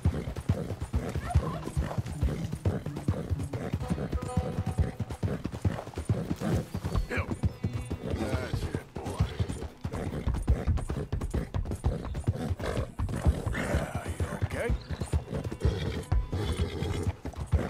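Horse hooves clip-clop steadily with occasional whinnies from a nervous horse in the video game Red Dead Redemption II, near and continuous, with a little talk faintly mixed in.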